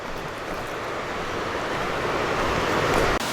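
A river in a hard-rock gold prospecting area flows with a broad, steady outdoor rush, nearby and fairly loud, with some wind on the microphone.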